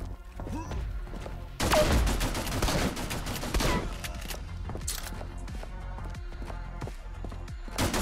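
Heavy gun fire from a mounted cannon-like weapon in the CyberPunk Shooting video game: a dense, loud burst of rapid shots, then a run of sharper repeated reports at a steady rhythm.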